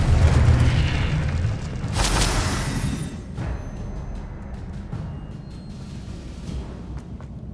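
Confringo fire spell exploding in the video game Hogwarts Legacy, a deep loud boom with a bright burst that rumbles and fades away over several seconds, followed by smaller thuds and no talking.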